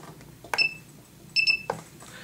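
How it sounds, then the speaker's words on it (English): An SC05 Sport Cup battery charger gives short electronic beeps as its button is held, two small bursts of tones with a couple of faint clicks, quiet over a low background hum. "you press and hold this until you hear the beep"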